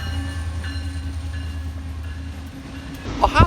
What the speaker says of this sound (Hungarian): ahol egy régi vasútállomáson lehet az elmenő tehervonatokban gyönyörködni